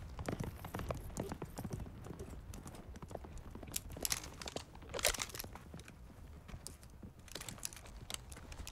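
Horse hooves clip-clop in a dense, uneven patter of sharp knocks at moderate distance in a sci-fi action film, with crunchy clatter mixed in and no talking.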